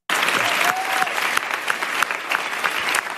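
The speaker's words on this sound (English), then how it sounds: "I'm going to play the applause part." Recorded applause played back, a sudden onset of crowd clapping that holds steady and dense for a few seconds, slightly thin and distant as if coming through a speaker.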